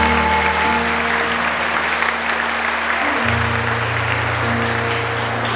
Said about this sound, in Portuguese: Dá uma salva de palmas para esse irmão.